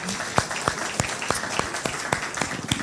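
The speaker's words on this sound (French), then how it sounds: "Merci, on vous applaudit." Sparse clapping from a small audience at a technical morning seminar: roughly ten distinct, separate hand claps at an uneven pace, fairly close and moderately loud.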